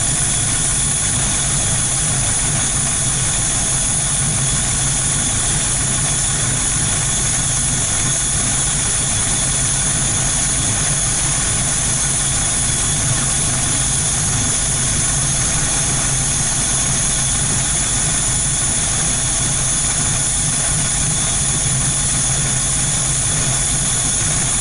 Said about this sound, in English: fulfilling the goals to warm up the engine